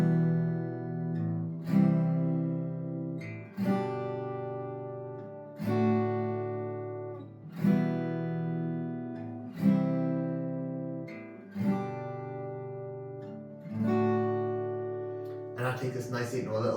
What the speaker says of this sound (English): Now when playing this, I like to just do those as single strums